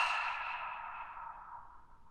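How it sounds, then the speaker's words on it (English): A long, smooth exhale pushed out through parted lips during a yoga breathing exercise, a close, breathy rush that fades gradually over about two seconds with no talking. "And part the lips, exhale."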